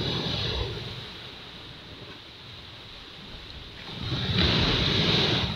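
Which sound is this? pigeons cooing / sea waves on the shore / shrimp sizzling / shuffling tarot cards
sea waves on the shore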